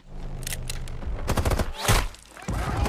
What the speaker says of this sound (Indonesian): tim penyelamat pun tiba dengan langsung menembak salah satu dari mereka